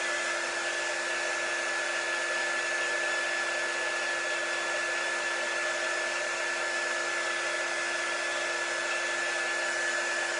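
A heat tool blows steadily and loudly on a sign, heat-setting chalk paste ink on both sides; a constant whooshing roar with a faint high whine runs unbroken throughout, with no talking.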